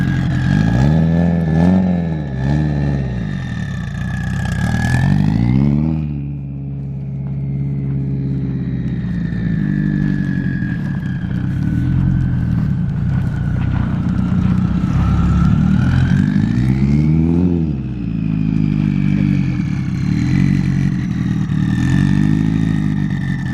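A car engine revs hard and close, rising and falling through long sweeping pulls with a loud throaty rumble and steady idle between surges, no talk over it.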